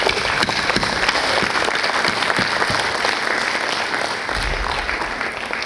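A standing audience at a Mangalore University Independence Day celebration gives soldiers sustained, loud applause, a dense even roar of many hands clapping for nearly six seconds without speech.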